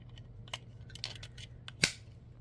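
Cutters snip through 22 gauge beading wire for a heart suncatcher, giving one crisp, close cut after a few faint clicks and handling noises in a quiet room.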